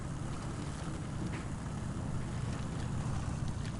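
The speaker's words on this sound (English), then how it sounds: "it's the revs, I can hear them in my headset sort of just dying down" A heavy truck engine in SnowRunner with revs sagging into a steady low drone, a continuous rumbling hum with no talk over it.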